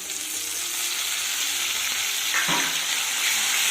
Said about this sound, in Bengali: এবার কারি পাতাটা দিয়ে সবটা ফোড়ন সুন্দর করে একটু ভেজে নিতে হবে